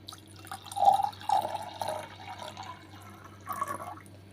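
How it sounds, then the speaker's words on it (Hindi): Water is poured into a kalash pot for a Navratri ritual, a few close, gurgling splashes and trickles in short bursts, quiet and without talk. "अब हमें कंठ तक जल भर देना है।"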